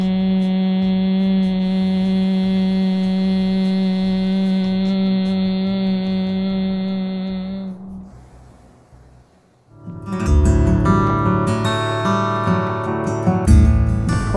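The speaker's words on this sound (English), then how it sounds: "You press it in and you inhale through your nose and exhale through your mouth, making the humming bee noise" Bhramari (humming bee breath) exhaled through the mouth during a yoga session: a steady, loud, even hum holds for about eight seconds, then fades out before other louder sounds take over.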